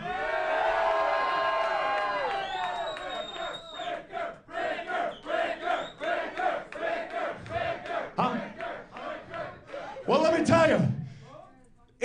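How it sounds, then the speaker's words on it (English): A wrestling event crowd cheers and chants for a wrestler in rhythmic waves of shouting, with a loud, sustained roar at first, then pulsing chant-like bursts and a final surge of yelling, with voices carrying over it. "I hear a whole lot of people out here cheering for Shaun Ricker right about now"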